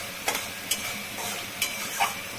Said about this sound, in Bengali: এগুলো দিয়ে খুব ভালো করে নাড়াচাড়া করব।